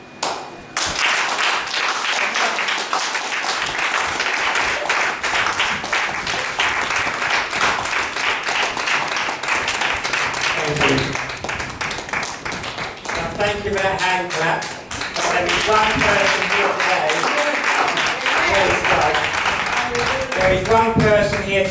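A church congregation claps continuously in a dense, lively roar of hands, with rhythmic clapping and someone speaking over it from the pulpit.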